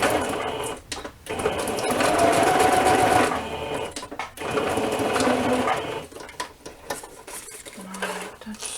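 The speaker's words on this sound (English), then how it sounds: "I'm going to do again 2 zigzag stitches down the side" A sewing machine stitches zigzag stitches down the side of a fabric scrap tag in fast, loud whirring bursts, broken by a few short pauses.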